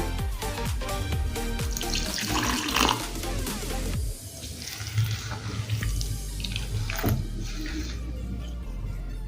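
Half a bowl of water is poured into poha idli batter, a continuous close splashing and trickling that shifts in tone midway, with faint stirring sounds underneath.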